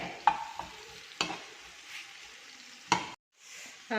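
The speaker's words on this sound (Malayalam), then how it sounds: "എന്നിട്ടൊന്ന് ഇളക്കി കൊടുക്കാം" Curry being stirred in a pan gives a few sharp scraping clicks of a spoon against the metal, with a soft sizzle between strokes and no talking.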